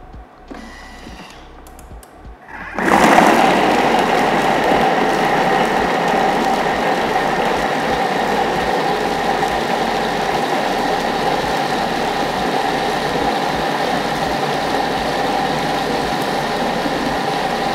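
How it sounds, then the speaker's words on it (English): A Thermomix chops pineapple for pineapple tarts: after a quiet start, the motor and blades switch on into a loud, steady whirring roar that holds evenly for about fifteen seconds. "So I'm going to chop it for 15 seconds, then scrape the bowl and do it for another 15 seconds."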